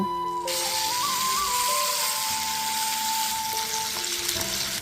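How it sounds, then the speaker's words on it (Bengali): Rohu fish pieces frying in hot mustard oil in a kadai, a steady loud sizzle with faint clinks and tonal hum underneath, continuous throughout. "তেলটা গরম হয়ে আসলে মাছগুলো এক এক করে ভেজে নেব"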